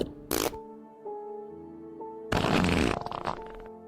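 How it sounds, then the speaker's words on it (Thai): A comedic fart sound effect in a Thai ghost story plays as a series of tonal, sputtering blasts, a short burst followed by wavering squeaks and a long, loud, ragged rip at close range, with no talk. "ลุงสมแกดันผายลมออกมาชุดใหญ่"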